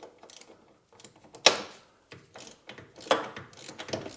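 A swivel-head ratchet clicks in short, quiet bursts under a BMW E46 330Ci, with a few sharper metallic ratcheting strokes between pauses, close up and with no voices.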